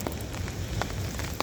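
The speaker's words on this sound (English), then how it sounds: "a little bit of rain coming off the trees there" Rain dripping off trees beside a fishery lake, a steady patter of drops hitting surfaces close by, with a few sharper individual plinks standing out over the soft hiss.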